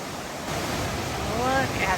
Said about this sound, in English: That water is flowing so fast. And it is so strong, that current.